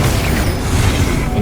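The Confringo blasting spell goes off in the Hogwarts Legacy video game, a loud, close, rumbling explosion with a broad, roaring body that fills the short moment without any talk.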